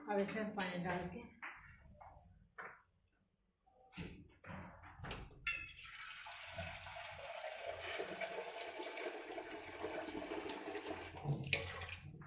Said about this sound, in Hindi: सब्जियाँ, अब इसमें पानी डाल के